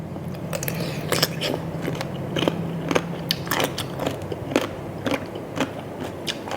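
Bullet jellyfish dipped in seafood sauce bitten and chewed up close, a steady run of sharp crunchy snaps and crackles repeating every half second or so, loud and with no talking.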